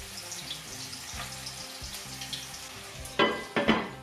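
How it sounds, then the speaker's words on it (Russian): Large meat cutlets fry in a covered pan with a soft, steady sizzle and crackle, broken near the end by a few louder clattering knocks close by. "Закрываю крышечку, жарим котлеты."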